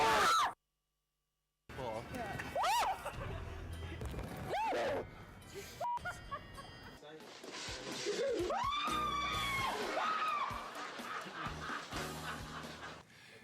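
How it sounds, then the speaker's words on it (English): A man lets out high, shrill, woman-like screams in bursts among gasps, sighs and scattered talk, with short silent gaps and sudden shifts in loudness. "it is possible for a man to scream like a woman"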